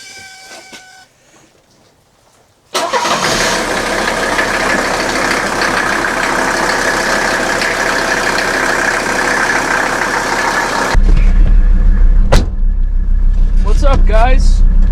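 An abandoned 1984 Mercedes-Benz with a once-seized engine is cranked and fires. A loud, continuous engine roar runs close to the microphone for several seconds, then drops into a rougher, deeper running sound, with bits of speech around it.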